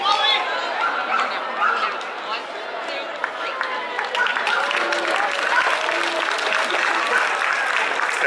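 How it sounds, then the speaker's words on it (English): A crowd at an AKC Meet the Breeds dog show applauds steadily and loudly for several seconds, with cheers, excited voices and a few dog barks mixed into the dense clapping. "Crowd applauding."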